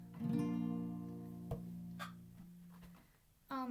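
An acoustic guitar chord rings out with a sustained, slowly fading tone, followed by a few lighter plucks and a fresh strum at the end.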